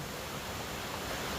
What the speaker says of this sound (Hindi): अभी भी बीच सड़क पर भारी सैलाब दिखाई दे रहा है